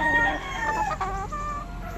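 A claret gamefowl broodcock rooster crows loudly and close by, a drawn-out cock-a-doodle-doo call with a few clucks.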